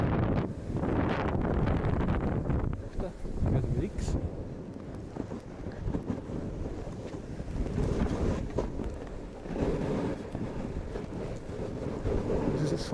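Strong wind roars steadily across the microphone while snowkiting at Obertauern on a hazy day, a continuous loud buffeting rush with gusty surges throughout.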